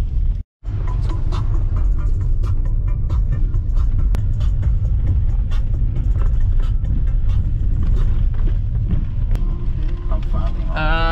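A car driving slowly on a mountain road in Himachal Pradesh, heading toward Barshaini Dam near Kasol, with a steady, continuous engine and road rumble heard from inside the vehicle that runs throughout after a brief dropout.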